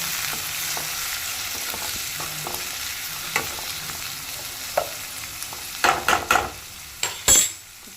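Onions frying in oil for egg curry, giving a steady close crackling sizzle with occasional light clinks of a spoon stirring, and a burst of louder scraping clatter near the end.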